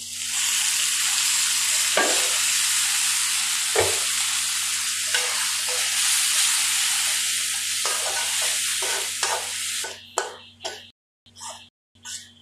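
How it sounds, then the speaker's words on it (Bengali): Onion and garlic fry with spices in a pan for a beef and dried fish bhuna, making a loud continuous sizzle with occasional stirring knocks before the sound cuts into brief bursts at the end. "পেঁয়াজ রসুন দিলাম,"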